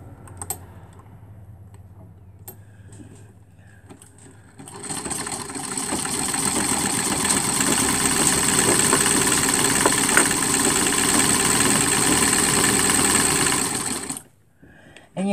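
A foot-powered treadle sewing machine runs steadily for about ten seconds, its wheel whirring with a mechanical clatter after quieter handling sounds, then stops abruptly near the end.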